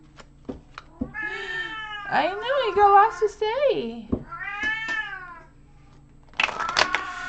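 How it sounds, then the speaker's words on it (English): A pet cat named Beastie meows loudly and repeatedly indoors, long drawn-out wavering yowls close to the listener, with someone speaking to it in between. "My cat, I know, Beastie is so loud."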